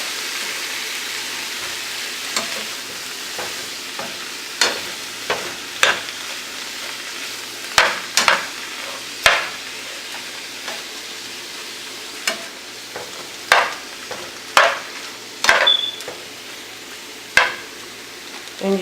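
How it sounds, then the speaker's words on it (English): Shrimp sizzle steadily in a hot pan while being stirred, with repeated scraping and clacking strokes from the utensil breaking over a constant frying hiss, close and fairly loud, with no talking. "So you're going to just stir your shrimp for about 2 minutes."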